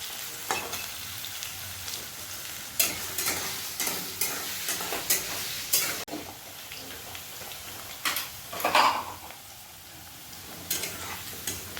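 Potatoes frying in a pan for a dhaba-style matar ghugni, a low continuous sizzle broken by repeated scraping stirs at irregular intervals, close and fairly quiet with no one speaking.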